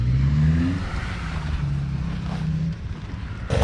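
A 230 dirt bike engine runs steadily and loud up close, a droning motor note that holds and wavers before a sharp burst of noise at the end.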